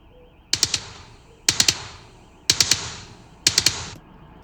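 Drum mix for a hardcore track, EQ'd with the highs boosted and the lows cut, four sharp bright bursts of quick cracking hits at an even pace, thin and clicky with no low end.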